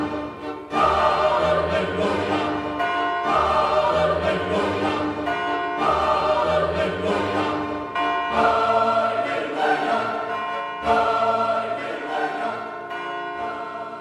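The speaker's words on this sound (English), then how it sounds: "he himself rang the bells." Church bells ring in repeated peals, loud and close, sounding alone for the whole stretch with no voices.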